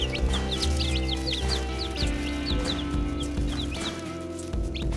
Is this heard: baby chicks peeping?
yes